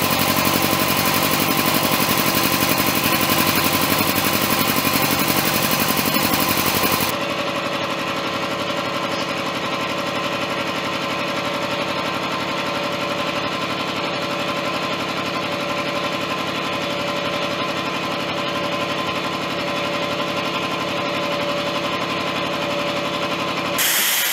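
A Kohands KC-752SN air compressor runs loudly and continuously while filling its tank, a dense motor and pump drone that drops to a quieter steady hum partway through and carries on to the end.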